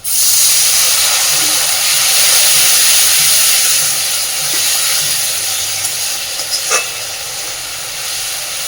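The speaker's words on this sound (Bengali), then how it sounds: "মশলাটা যাতে পুড়ে না যায় ওই জন্য সামান্য একটু জল দিচ্ছি" Spice paste frying in hot oil in a kitchen pot, with a little water added, gives a steady loud hiss and sizzle that fades slightly, with a few small pops and clicks near the end.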